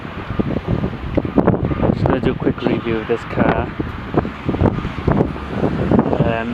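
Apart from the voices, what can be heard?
strong wind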